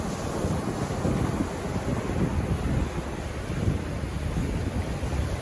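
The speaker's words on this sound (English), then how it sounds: "It's going to be hard to film with the iPhone in the wind." Strong wind blowing on a beach at New Smyrna Beach during surf fishing, a constant loud buffeting rumble against the microphone mixed with the wash of surf, no speech.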